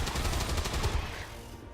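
A rapid burst of automatic gunfire from the video game Long War 2 rattles out loud and dense for about a second, then fades into a ringing echo.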